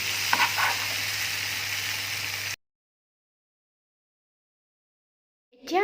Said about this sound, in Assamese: যেতিয়ালৈকে এইটো অকণমান ৰঙচুৱা নহয় তেতিয়ালৈকে মই ভাজি থাকিম